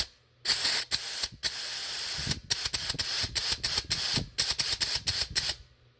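Aerosol grease sprayed onto an engine pulley in repeated hissing bursts, short and longer spurts separated by brief pauses, close and fairly loud, with no talking.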